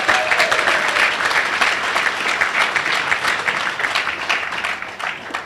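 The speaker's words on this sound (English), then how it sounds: "Give them a round of applause, please." An audience at a Central High School Hall of Fame event in Manchester gives a round of applause, dense, loud and steady clapping that runs unbroken throughout with no voices.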